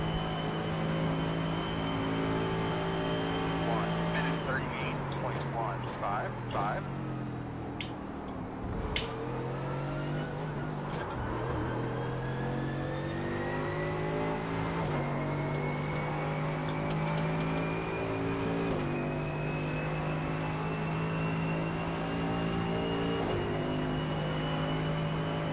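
A McLaren race car engine in iRacing drafting behind traffic, a steady high harmonic engine whine that rises gradually, with a brief downshift dip partway through and constant loud drone.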